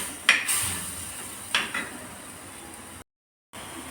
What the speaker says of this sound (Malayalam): ഇനി എണ്ണ തെളിയണ വരെ നന്നായി ഒന്ന് മിക്സ് ആക്കിക്കൊണ്ടിരിക്കുക